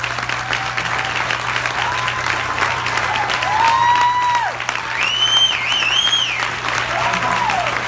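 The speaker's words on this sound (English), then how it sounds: "Will our board of directors please stand, and let's give them a round of applause, please." An audience applauds the board of directors as they stand, steady clapping and some cheering carrying under whistle-like tones and a few voices.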